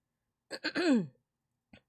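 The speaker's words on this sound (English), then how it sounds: "I just gotta keep on clearing my throat because I just ate." A person clears their throat once with a short rasping rumble, followed by a faint second catch a moment later; close and otherwise quiet.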